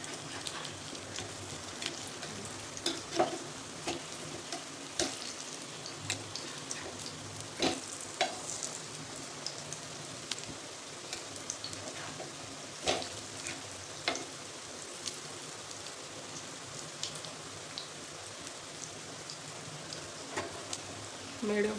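Mung dal and poha tikkis shallow frying on a hot griddle over a medium flame give a steady oily sizzle with crackles and pops scattered through it. It runs continuously and fairly quietly, with no talk.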